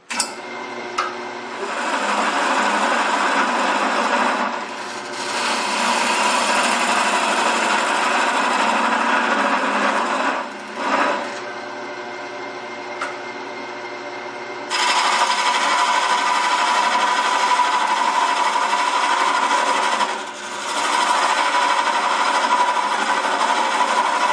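A wood lathe spins a cryptex box blank while a hand-held scraping tool squares its ends, giving a loud, steady whirring and cutting hiss that drops out briefly a few times before resuming.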